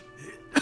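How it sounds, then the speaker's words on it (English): An ageing cryptozoologist with a fever, an old man in the Disco Elysium game, lets out a single sharp cough. It comes close and abrupt at the end of a short quiet moment, with no talk around it. "The aging cryptozoologist breaks into a hideous coughing fit."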